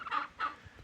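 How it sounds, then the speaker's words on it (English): A young turkey on an off-grid homestead gives two short, close gobbling calls about a third of a second apart, with quiet farmyard background and no talk. "So this is what a juvenile turkey looks like."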